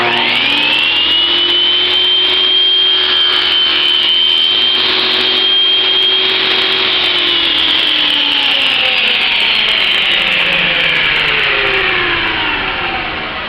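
Table saw cutting a dovetail half pin into a wooden board, a loud steady whine that holds for several seconds, then gradually drops in pitch as the blade spins down. No one talks.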